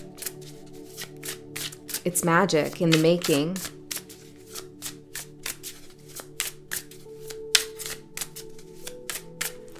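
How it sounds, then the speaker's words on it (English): Rapid riffling of a deck of cards, crisp fluttering clicks in quick bursts, with a brief spoken phrase early on. "when you shuffle a deck"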